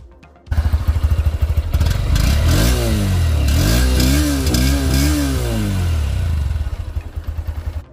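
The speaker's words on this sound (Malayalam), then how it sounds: "നമുക്കിനി സൈലൻസറിൻ്റെ സൗണ്ടും കാര്യങ്ങളൊന്നും കേട്ടോ." Exhaust note of a 2023 Honda CB200X motorcycle, loud and close, starting abruptly and held at a steady revving idle with rising and falling pitch swells in the middle, then settling into a pulsing putter.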